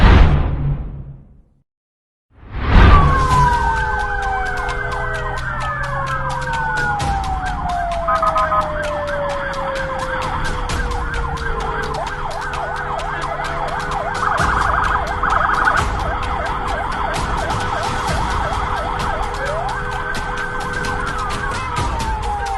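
A wailing siren from an official state vehicle rises and falls continuously on an Indonesian road, loud and close, its sweeping tones sustained throughout over traffic noise after a brief silent gap at the start.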